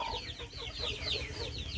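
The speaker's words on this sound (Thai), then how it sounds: "อันนี้ไก่ซิลกี้เฮาเด้อพี่น้องเห็นนะ" Silkie chickens cluck in a steady, busy stream of short calls close by on a farm, with a low rumble of background noise underneath.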